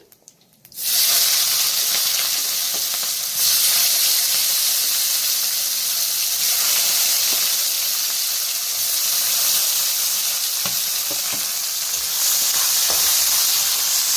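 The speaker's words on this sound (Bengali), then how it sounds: "পেঁয়াজ দুটো দিয়ে দিচ্ছি" Chopped onions drop into hot oil in a pan and set off a sudden loud, steady hiss of frying that carries on at close range with faint stirring scrapes, and no one speaks.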